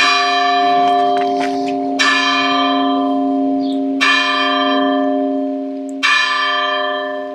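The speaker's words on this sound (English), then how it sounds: "For whom the bell tolls." A church bell in the Spanish town of Ambite tolls four slow, evenly spaced strokes about two seconds apart, each ringing out loud and long with rich humming overtones.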